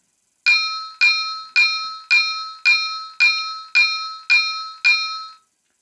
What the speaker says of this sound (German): F17 ist die Glocke